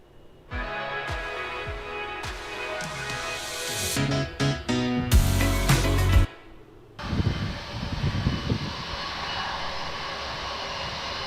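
An Airbus A380 airliner heard from a played clip: a loud engine roar with tonal whine and sharp cuts, surging and dropping across several edited segments, then a rumbling jet wash to the end.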